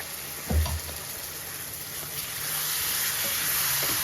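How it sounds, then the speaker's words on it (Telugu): Tomato paste fries in oil for an eggplant curry, giving a steady, even sizzling hiss throughout, with a soft low thump near the start and no voices. "వేగిన తర్వాత నూనె పైకి తేలిన తర్వాత టమోటాల పేస్ట్ వేసుకుని"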